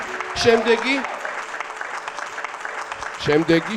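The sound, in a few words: applause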